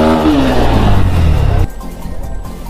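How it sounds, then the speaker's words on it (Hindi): A motorcycle stuck on an off-road trail revs hard, its loud engine roar rising and straining for under two seconds before cutting off abruptly, leaving only quiet background. "यहाँ पे बाइक दस्ती जा रही है"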